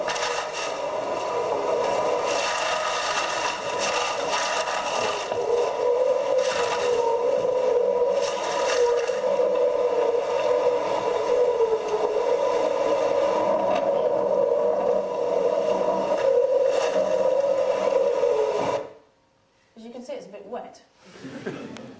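Loud, steady rushing of wind and water with creaking and rattling, like a sailing boat pushing through rough sea, cutting off abruptly near the end.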